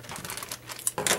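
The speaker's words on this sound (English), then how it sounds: "Just cut away the edges of the bag." Scissors cut away the edges of a plastic bag wrapped around pie dough, giving a brief close crinkling and rustling of thin plastic with a sharper crackle near the end.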